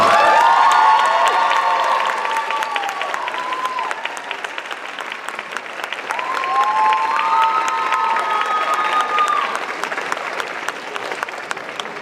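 Sustained applause from an audience at a School of Public Health spring convocation, honoring faculty on stage, dense clapping with cheers and whoops that swell again midway, steady and fairly loud throughout.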